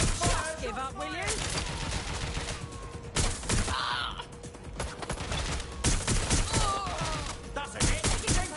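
Rapid gunfire bursts and shots from a firefight in the video game Watch Dogs: Legion, repeated volleys over several seconds with game characters shouting throughout.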